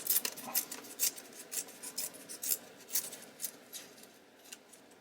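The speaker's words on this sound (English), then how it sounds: "let's just tear some more" Rhythmic rasping rips of paper or tissue being torn by hand, close and fairly quiet, about a dozen short bursts in a steady uneven pattern with no talking.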